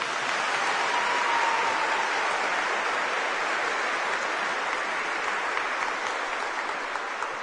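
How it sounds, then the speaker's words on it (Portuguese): A church congregation at a Portuguese-language homily gives a long, even round of applause, a dense hissing wash of many hands clapping at a distance, steady throughout with no speech over it. "Quem confirma isso, dá uma salva de palmas para o Senhor."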